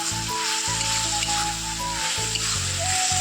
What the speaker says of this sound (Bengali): এবার পটল আর আলুটা দিয়ে দেবো, দিয়ে 5 মিনিট কষিয়ে নেব